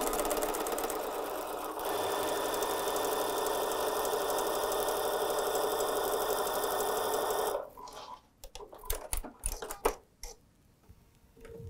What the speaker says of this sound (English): then you sew a quarter of an inch away from the line